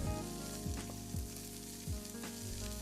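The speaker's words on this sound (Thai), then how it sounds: "เติมผักตามใจชอบ ผัดให้ผักสลด" Vegetables stir-fried in a hot wok for Thai rad na noodles, a steady close sizzle with a few scraping strokes of the spatula breaking in at regular intervals, no voices.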